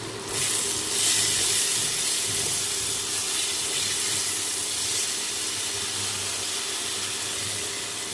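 Lukewarm water is poured into a frying pomfret masala, producing a steady loud hiss and bubbling steam that holds throughout.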